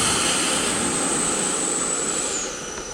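Horizon Hobby F-16 RC jet with a 5280 afterburner-style EDF on a 4000 mAh 60C pack, flying at full throttle: a loud, steady ducted-fan whine with broad rushing roar, dipping slightly in pitch near the end as it passes.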